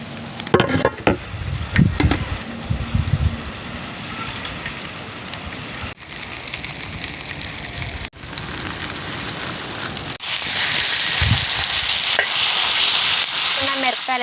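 Green chillies frying in hot oil for a pickle, a steady bright sizzle with stirring and scraping clatter near the start, growing louder and hissier toward the end, no voices.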